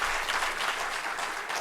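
Brief burst of audience applause at an anniversary gathering, a dense wash of many hands clapping together, even and moderately loud throughout.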